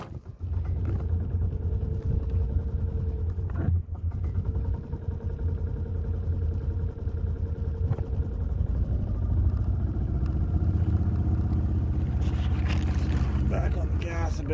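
A cold Club Car golf cart engine runs steadily after cranking on choke, a loud, close, low rumbling drone that holds an even pitch throughout, with a voice heard at moments over it.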